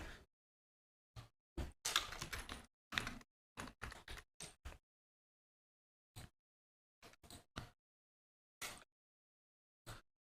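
Fingers tap a computer keyboard to enter a book title, quiet bursts of keystrokes separated by silent pauses, close and crisp with no talking.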